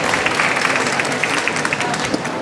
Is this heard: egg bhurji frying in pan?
no